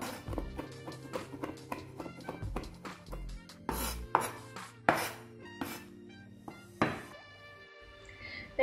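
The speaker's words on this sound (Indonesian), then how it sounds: "Nah, udang keringnya ini juga sama, kita cincang juga sampai halus." Dried shrimp being finely minced with a knife on a board, a close series of sharp, fairly quiet chops in an uneven rhythm with a few louder strikes, with no talking.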